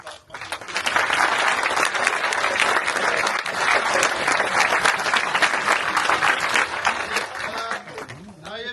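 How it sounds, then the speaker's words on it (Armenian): A loud, sustained round of audience applause at an event in honor of Nazeli, dense clapping from a sizable crowd that rises quickly and continues for several seconds before starting to taper. "Եկեք մի հատ բարձր ծափարենք Նազելի"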